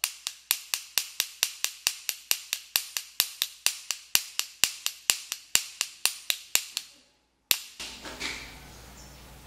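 Two hammer heads struck face to face, giving about two dozen sharp metallic clacks in a fast, steady rhythm, close and loud, followed by a brief silence and some faint handling noise.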